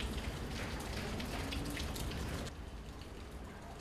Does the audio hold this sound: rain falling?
yes